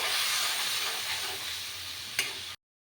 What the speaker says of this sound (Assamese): আৰু এইখিনি মই ফ্ৰাই কৰিছোঁ।